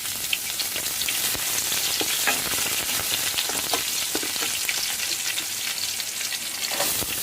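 Curry leaves and green chillies fry in hot oil with a loud, crackling sizzle that runs steadily throughout, full of sharp spattering pops close by and no voices.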